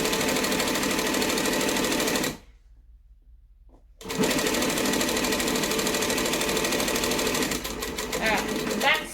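A cylinder arm sewing machine stitches a bag lining in fast, steady bursts, loud and close, stopping briefly for a second or two before running again, with a faint voice near the end.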